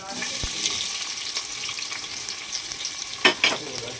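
Onions dropped into hot oil in a pan for Tirunelveli-style thala kari salna give a steady, close frying sizzle with a few sharper spattering bursts near the end, and no voices.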